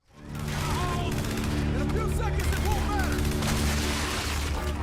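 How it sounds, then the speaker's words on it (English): Gunfire and explosions from the video game Gears 5: dense, continuous battle noise with rapid overlapping shots and booming blasts, loud and sustained throughout. "The guns and all their sound effects were definitely solid."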